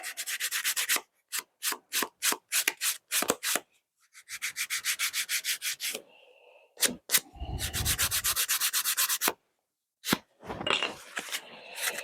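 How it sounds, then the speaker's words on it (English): Sandpaper rubs a plastic scale-model piece being prepped for weathering and gray paint, in quick rhythmic strokes that come in bursts with brief pauses, close and fairly loud. "going to sand that down just a little bit more"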